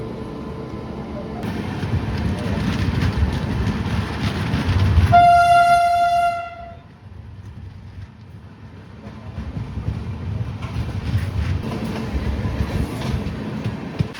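A passenger train pulls out of Toranagallu station on a fast passenger run from Hubballi to Srisailam. A loud, sustained horn blast sounds midway over steady close rumble and carriage noise, and the rolling rumble continues afterward.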